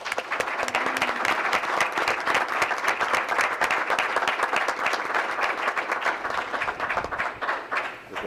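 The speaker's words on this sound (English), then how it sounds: "you want to hold your applause till the end" A room full of people at a school board of education meeting applauds loudly, dense clapping sustained for several seconds before it begins to thin out.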